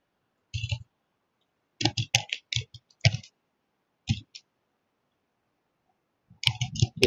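Short bursts of typing on a computer keyboard in separate clusters with pauses between, close and clear, no talk.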